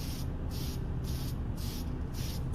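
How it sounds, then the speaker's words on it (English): Spray paint can misting onto a Chevy body for an SCX24 crawler, five short rhythmic hissing bursts with brief gaps between, close and fairly quiet. "Maybe about 10 inches away from the car with the spray bottle"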